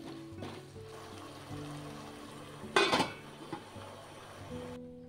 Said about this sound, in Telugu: దీంట్లో ఇప్పుడు కంద ముక్కలు కడిగి పెట్టుకుని వేసుకోవాలన్నమాట.